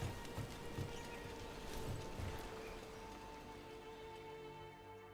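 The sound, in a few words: rain in video game Dragon Age: The Veilguard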